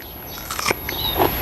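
Someone bites into a date fruit, a short crisp crunch followed by soft chewing, close and clear, with no talk.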